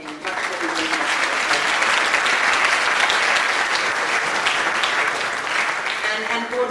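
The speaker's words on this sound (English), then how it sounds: "I would like to just have a little round of applause for our board" Lecture audience applauds the board in a warm, steady round of clapping, dense and even throughout, with faint voices mixed in near the start and end.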